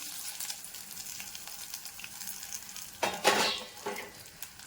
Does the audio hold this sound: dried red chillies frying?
yes